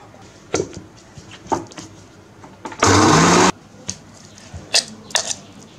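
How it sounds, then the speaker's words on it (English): A kitchen mixer grinder crushing pumpkin seeds with onion, garlic, ginger, chili and curry leaves into a paste whirs loudly in one short burst, framed by scattered clinks and knocks of the jar and utensils. "Now crushing the pumpkin seeds with onion, garlic, ginger, chili and curry leaves till a fine paste is made."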